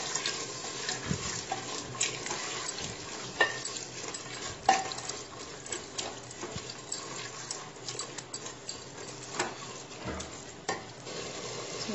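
A spoon stirs and scrapes kidney beans with fried spices and salt in a sizzling pan, with irregular clinks and soft frying underneath, close up and steady.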